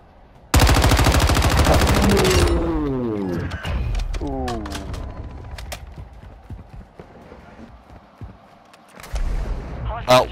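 Rapid automatic gunfire from Call of Duty Warzone 2 bursts in loud and dense for about two seconds, followed by scattered single shots and impacts with game sounds, and another short burst near the end.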